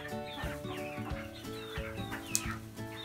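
Hens and a few ducks cluck and chatter nearby in a continuous, overlapping stream of short calls, with one sharp higher squawk standing out near the end.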